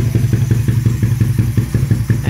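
A Raider 150 Fi motorcycle engine runs through a loud aftermarket exhaust pipe, a close, steady, throbbing idle with rapid regular pulses and some clattering, heard alone.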